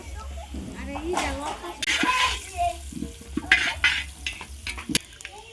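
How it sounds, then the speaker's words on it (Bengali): Two hundred fifty grams of cumin fried in oil in a pan and stirred, giving a low, steady sizzle with scraping, mostly under a person talking throughout. "আড়াইশো গ্রাম জিরা তেলের উপর ভেজে নিচ্ছি"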